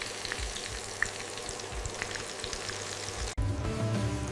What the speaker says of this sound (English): Turning the chicken until it's golden and crispy.